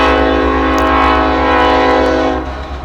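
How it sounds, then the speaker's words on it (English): A loud train horn blares steadily, close by, over the deep rumble of a passing train in Bellingham, Washington, easing off at the end. "Now the train is coming in for you,"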